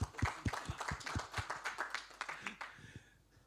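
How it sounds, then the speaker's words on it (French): Conference workshop audience clapping for a guest speaker, a fairly quiet round of distinct rhythmic claps that gradually thins and dies away. "Donc on l'applaudit."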